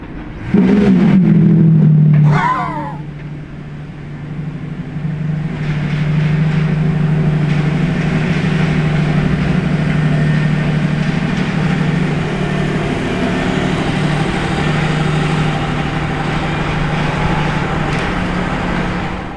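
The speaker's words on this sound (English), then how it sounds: "did you hear the startup of the second Revuelto?" A Lamborghini Revuelto starts with a sharp, loud burst from its engine, then settles into a steady rumbling idle that continues nearby for a long stretch.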